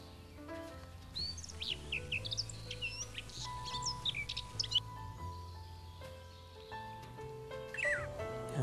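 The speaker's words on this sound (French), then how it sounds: "Et voilà l'oriole, on entendra." A golden oriole sings outdoors in a series of fluid whistled phrases mixed with chirps, mid-distance and fairly clear against a quiet background.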